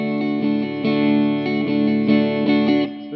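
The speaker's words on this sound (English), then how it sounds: "So that strumming pattern, slow motion, should sound like this" Guitar strummed slowly in a song's chord pattern, rhythmic distorted-sounding chord strokes ringing continuously with accented downbeats about every half second, loud and alone.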